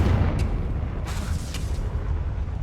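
Rumbling blasts from the Confringo fire spell in Hogwarts Legacy, a heavy low boom that rolls on continuously, with brief crackling bursts layered over it.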